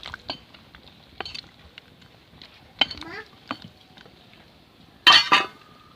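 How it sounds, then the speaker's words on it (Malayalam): Sambar curry being stirred in a pot after tamarind water is added, with scattered scraping clinks of a spoon against the pot and a louder clatter near the end, no talk over it. "പിന്നെ പുളിവെള്ളവും ചേർത്ത് കൊടുക്കുക നല്ലോണം ഒന്ന് മിക്സാക്കി യോജിപ്പിക്കാം"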